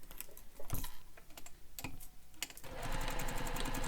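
A sewing machine stitches a bag seam: scattered handling clicks and thumps first, then the motor kicks in for a continuous, fairly close run of rapid stitching.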